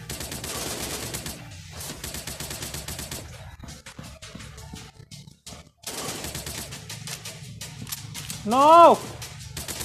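Rapid bursts of gunfire from jump shots in the mobile shooter game Commando War Army, loud and repeated in fast volleys with short gaps, mixed with game music and effects while someone talks.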